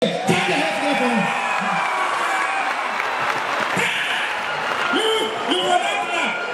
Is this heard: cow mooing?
no